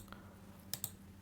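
Two quick, crisp clicks from a computer mouse close by, a fraction of a second apart, in an otherwise quiet room.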